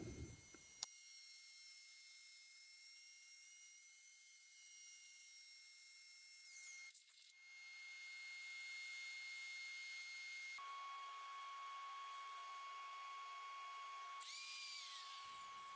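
A power sander works resin and maple with 3.5-inch dimple discs, giving a steady high whine that shifts pitch a few times as the grit changes, with no talking.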